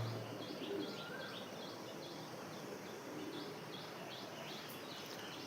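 Soft pigeon coos repeat steadily over a constant outdoor hiss, with a few faint chirps, no talking.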